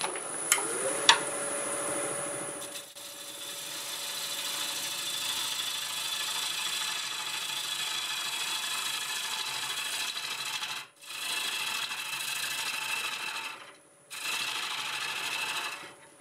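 English walnut spins on a wood lathe as a tool tapers it, making a steady rasping scrape with a faint motor hum, broken by brief pauses as the cut lifts off.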